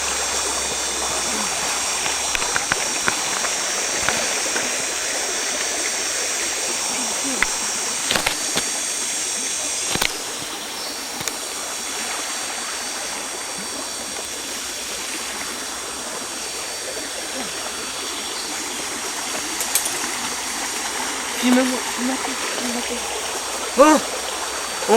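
A cold stream flows and babbles steadily around someone wading barefoot, a constant close rush of water with occasional small splashes and a brief voice now and then.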